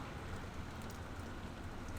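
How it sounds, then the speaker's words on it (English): Steady rain falling outdoors near a house in a wooded, cramped neighborhood, a constant even hiss of drops with no talking. "It's still raining out here."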